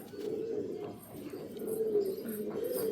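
Pet pigeons coo at home, a close, soft, repeated throaty warble running steadily through the moment with faint chirps above and no talk.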